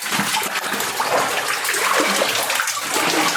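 A steady stream of water falls from a cave roof, splashing and gushing loudly and continuously nearby with no one talking.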